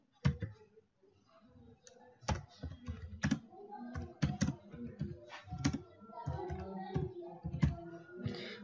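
Typing on a computer keyboard while filling in a home guard application form online, a close, quiet run of irregular clicks and key taps, some sharper strokes standing out, with occasional faint low murmuring.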